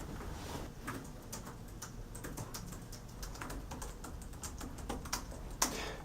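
Steady typing on a computer keyboard in an office, a continuous run of quick, light key clicks at moderate distance with one sharper tap near the end, no voices.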